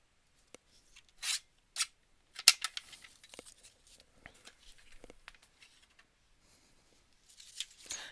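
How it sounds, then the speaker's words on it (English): Scissors snip through cloth in a few crisp, separate cuts, close and quiet, with soft rustling and handling noises between them. "Let's just cut off 6 then."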